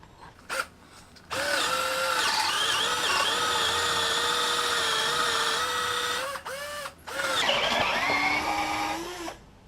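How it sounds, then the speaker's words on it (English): A cordless drill whirs steadily for several seconds after a brief start, pauses twice, then spins up again, its motor pitch shifting under load while drilling holes for a hammock stand. "Let's just drill the second hole."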